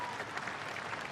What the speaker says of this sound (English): reacting with a rousing reception for the parade marshals